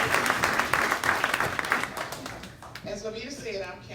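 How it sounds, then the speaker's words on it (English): Applause from the audience at a congressman's Unsung Heroes award ceremony, dense clapping that thins after about two and a half seconds as a voice begins speaking over the tail. "Please give him a round of applause."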